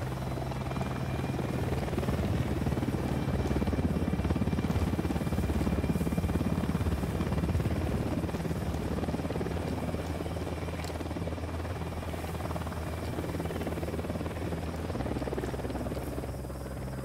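Helicopter in the video game Ghost Recon Wildlands, a steady loud rotor drone with low thumping hum holding for the whole stretch, with no voices over it.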